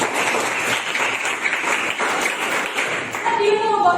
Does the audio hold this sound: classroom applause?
yes